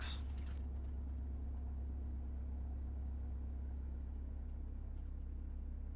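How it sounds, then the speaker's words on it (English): A Vans RV-6A light aircraft slowing on its landing rollout, giving a steady, loud low engine drone and rumble that carries on evenly throughout, with a brief higher whine at the very start and no talking. "Wait for a little bit of nose wheel shimmy as we slow down."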